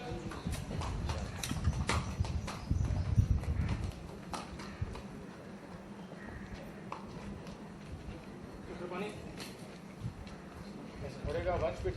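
Horse hooves clip-clop steadily on a TV serial set for 'Maharana Pratap', the rhythmic hoofbeats close and clear while crew members talk and give directions over them.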